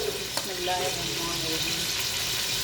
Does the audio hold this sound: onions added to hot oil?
yes